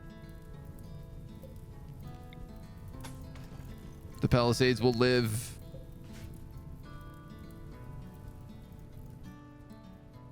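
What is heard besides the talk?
rain falling in the video game Rimworld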